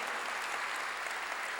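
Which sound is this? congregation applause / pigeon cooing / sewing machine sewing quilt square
congregation applause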